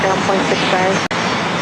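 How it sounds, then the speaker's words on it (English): A Challenger jet takes off from the runway at LAX, giving a steady, broad engine roar that runs under continuous talk, with one brief dropout near the end. "See how quickly this Challenger takes off and lifts off the runway."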